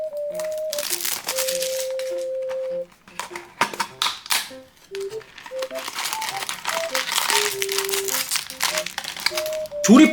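Crinkly plastic packaging from a Bloki random box is torn and rustled open up close, while a person hums or talks over the crackling.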